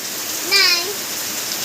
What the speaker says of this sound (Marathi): ह्याच्या आधी पाऊस एवढा जोरात पडला होता काय